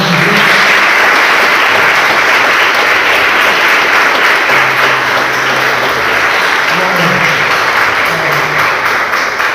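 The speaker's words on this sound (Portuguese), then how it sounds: "Você pode aplaudir o Senhor bem forte, né?" An evangelical church congregation in Botucatu applauds loudly and continuously, a thick wash of clapping that holds steady, with a few faint voices beneath it.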